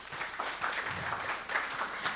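A school event audience claps to welcome a group of middle school students from Gyeonggi Province, a steady moderate wash of applause lasting the whole moment with no talk over it.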